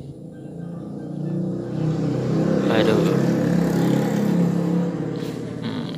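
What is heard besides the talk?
motorcycle engine noise in background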